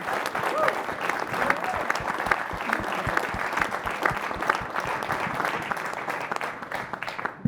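An audience at a climate dialogue event claps steadily and continuously, a dense, sustained round of applause that fills the whole stretch.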